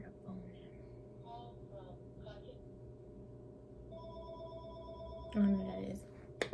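A telephone rings in a Subway restaurant workplace, tonal bursts sounding over a steady background hum, with a louder clatter near the end.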